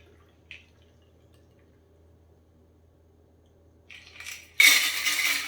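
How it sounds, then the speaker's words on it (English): Sloe gin cocktail poured into a glass at a home bar: after near silence and a faint clink, a loud, close splashing rush of liquid starts suddenly and runs to the end. "So we're gonna pour this drink in here."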